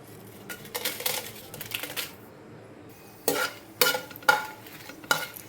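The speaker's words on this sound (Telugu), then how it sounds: "ఇప్పుడు మనం ఇందులో ఎండుమిరపకాయలని వేయించుకుందాము" Dried red chillies and fenugreek seeds frying in oil in a small pan, heard as soft sizzling under a series of sharp metallic scrapes and clinks of a spoon stirring against the pan.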